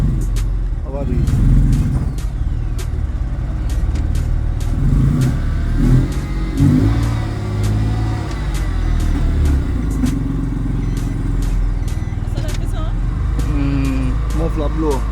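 An abandoned Nissan car's engine with a blown muffler revs up and down, loud, rough and raspy, with repeated throttle blips, while people talk over it.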